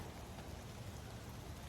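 Steady rain falls during a Saturday outdoor work day on waterlogged ground, a dense, even hiss of drops with low rumbling wash underneath and no voices.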